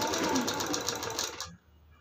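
A sewing machine stitches around the armhole of a long-sleeved blouse, a fast steady whirring run close by that halts abruptly near the end.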